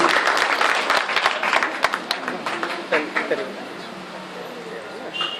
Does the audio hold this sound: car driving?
no